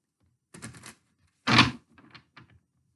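Tarot cards riffle and slap together in a few short bursts, a quick flutter, then one louder close shuffle, then lighter taps in near silence.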